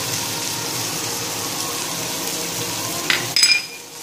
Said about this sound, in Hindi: हरी मिर्ची कोतमीर हमने डाल दिया है, फिर इसको 1 मिनट तक थोड़ा भूनेंगे